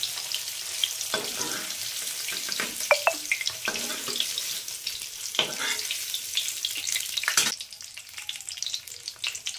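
Paneer pieces frying in hot oil in a pan give a steady close sizzle, broken by sharp utensil clacks and short bursts of louder crackle as the pieces are turned and lifted out.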